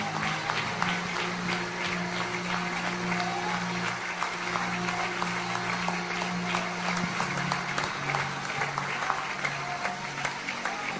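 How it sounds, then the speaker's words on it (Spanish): Congregation clapping to the Lord in a church service in the Dominican Republic, a sustained crowd of hands clapping steadily for eleven seconds over sustained musical tones underneath. "Let us clap to the Lord."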